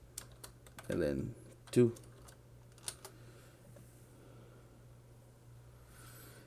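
Fingers tap keys on a calculator keypad, a handful of light, sparse clicks spread across several seconds, with brief speech in between.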